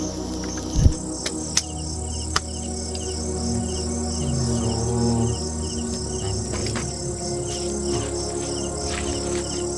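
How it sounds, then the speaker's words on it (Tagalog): Steady, high-pitched cricket chirping fills the night air at a campsite without pause, with a few faint clicks and soft low rustles underneath. "Sa gabi, tahimik ang paligid at tanging ang mga kuliglig lang ang maririnig."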